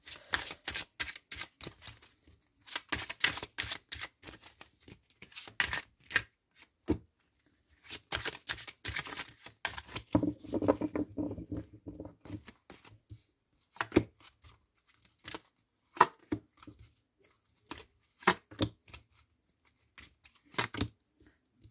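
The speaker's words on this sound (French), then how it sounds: "J'ai du mal à les mélanger un peu des fois, ces cartes-là" A deck of oracle cards shuffled by hand in irregular rapid flurries of crisp riffling and slapping, pausing and resuming, close and fairly quiet.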